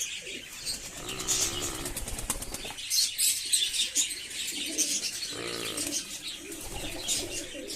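Pigeons in a loft during breeding season flap their wings in loud bursts, with soft cooing and chirps underneath, all close by and crowded.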